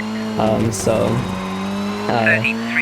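In the rally video game Colin McRae Rally 2.0, a standard car's engine whines at a steady pitch and rises in two short revving bursts, with a faint tire squeal and a person talking over it.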